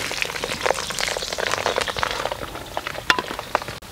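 Curd chillies sizzling steadily in hot oil, a dense crackling hiss with a few sharper pops, close and alone.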